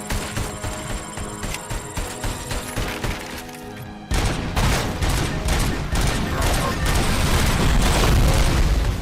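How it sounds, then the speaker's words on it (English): Cluster missiles explode in the RoboCop: Rogue City video game as a rapid, rhythmic string of loud booms. They then swell into a dense, continuous roar of blasts and gunfire that fills the whole mix. "This thing's got cruise missiles!"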